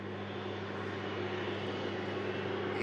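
A Ryanair airliner rolls for takeoff down a runway, its engines producing a steady, broad roar heard from a distance, constant in level throughout without voices.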